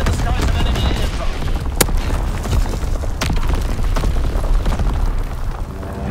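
A Call of Duty: WWII artillery barrage during a Domination match on Shipment 1944 sends dense, overlapping booms and sharp bursts, loud and close, mixed with game voices.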